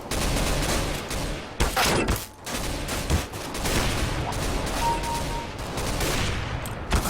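Rapid bursts of gunfire from the video game CS:GO crackle almost nonstop, loud and dense, with brief gaps between volleys.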